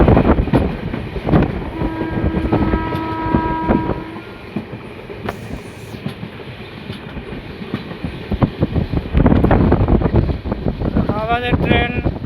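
The Uttarbanga Express runs between New Jalpaiguri and Dewanhat with a loud, continuous rumble and rattle of moving carriages. A horn-like tone sounds early and wheel squeals come near the end. Voices are heard in the carriage.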